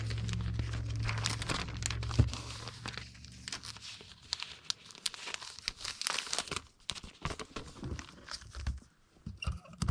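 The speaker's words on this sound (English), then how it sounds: "We will put those in an envelope" Comic books being packed into an envelope or bag for shipping, with close crinkling plastic and paper rustles, tearing and handling noises in an irregular stream, no talk.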